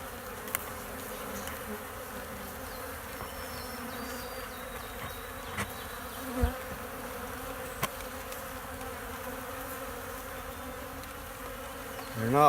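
Honey bees buzz around an opened hive with comb started inside, a dense steady drone close by with individual bees whining past now and then.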